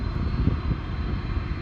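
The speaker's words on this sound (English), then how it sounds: "this plane makes a lot of noise" A plane taxiing at DFW International Airport gives off a steady engine drone that holds fairly loud and even throughout, with no talking.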